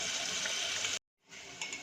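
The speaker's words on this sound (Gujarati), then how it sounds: "પાણી આમાં એડ કરીશું" Water pours in a steady stream into a cabbage kofta gravy in a pan, breaks off for a moment, then resumes a little more softly.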